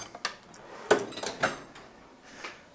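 Metal rattles and clanks as a motorcycle tool drawer slides open on a Suzuki GSX-S750, followed by a few scattered knocks of tools shifting inside.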